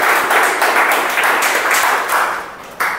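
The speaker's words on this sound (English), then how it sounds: "huge round of applause for the people who've used" An audience at a club meeting claps for a few seconds, giving a steady patter of applause that fades a little before a final sharp clap.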